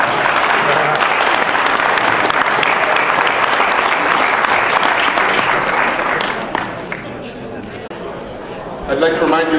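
A crowd at a political candidates forum applauds in a dense, loud burst of clapping. The applause tapers off into scattered claps and murmuring near the end.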